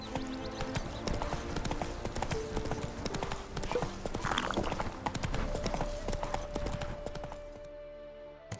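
Roach, a horse in The Witcher 3, trots in steady, continuous clip-clopping hoofbeats, close and prominent over game ambience, briefly stopping near the end.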